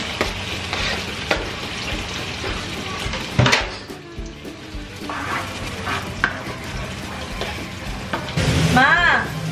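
Onions and tomatoes fry in a pan with a continuous sizzle, interrupted by stirring scrapes and utensil knocks against the pan, close and busy, with some talking in the background.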